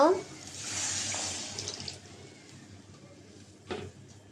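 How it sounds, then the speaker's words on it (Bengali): Water pours with a rushing splash for a couple of seconds onto frying onion paste and spices, then settles into quieter bubbling, with a brief clatter near the end. "এখন পানি দিয়ে দিব মশলা কষাবার জন্য"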